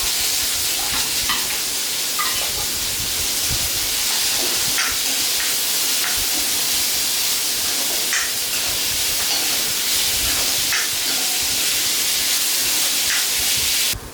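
Finely chopped onions frying in hot oil in a pan for a chicken roast, a loud, continuous hissing sizzle with occasional stirring scrapes throughout.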